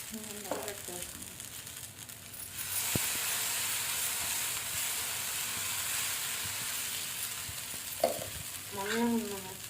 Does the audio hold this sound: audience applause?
no